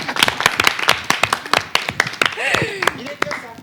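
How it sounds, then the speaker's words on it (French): Scattered hand claps from an audience on a French talk show, uneven and moderately close, mixed with ongoing speech and a brief whistle-like tone. "On applaudit pour ça."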